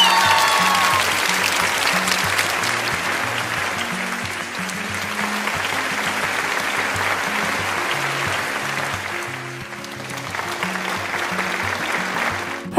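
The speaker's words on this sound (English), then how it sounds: "Please give a round of applause for Jillian Knoll" Sustained audience applause after a horse show jumping round, steady and fairly loud across the whole stretch, with a low, repeated musical tone playing underneath.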